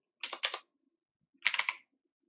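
Computer keyboard typing comes in two quick, close clusters of keystrokes, a few clicks each, separated by a pause of near silence, with no talking.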